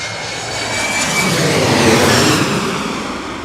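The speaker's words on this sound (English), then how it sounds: "American Airlines coming in from Atlanta, Georgia." An American Airlines plane arriving from Atlanta comes in to land at a New York airport in Queens, making a steady, broad roar that swells gradually and stays loud throughout.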